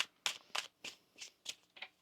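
Tarot cards being shuffled by hand in a quiet room: seven short, crisp riffling bursts come in a steady, even rhythm, close and fairly soft, with no talking.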